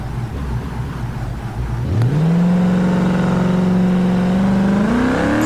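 A Moonhawk beater drag car launches off the line at the track, its engine roaring close and loud as the revs climb steadily through a long, rising pull with no break.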